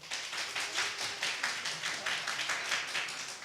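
Church audience clapping to vote for team 3 in a live applause poll, a dense, steady burst of many hands close by, with no talk over it.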